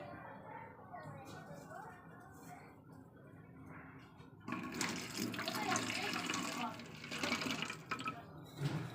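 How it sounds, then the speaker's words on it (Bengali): Water pours into milk in a home kitchen, a soft trickle that swells into a fuller gushing pour halfway through, heard close with faint household sounds before it starts. "দুধটা দিয়ে দিলাম একটু অল্প করে জল দিয়ে দেবো"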